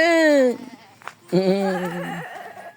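A sheep lets out two long, wavering bleats close by, the first a loud, trembling cry and the second a longer quavering call after a brief pause.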